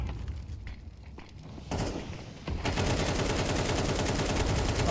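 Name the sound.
gunfire spray in the video game Counter-Strike 2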